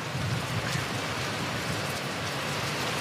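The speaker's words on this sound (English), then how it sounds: "And just so you know, this rain here," Rain falls in a steady, dense hiss that holds at an even level for the whole span, with no voices.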